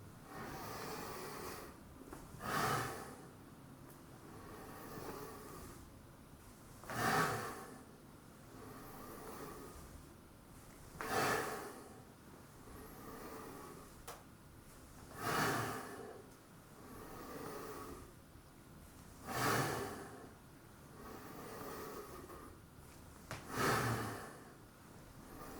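A person breathes heavily during a set of push-ups, with strong, regular exhalations about every four seconds and quieter breaths in between. The breathing is close and alone, with no talk.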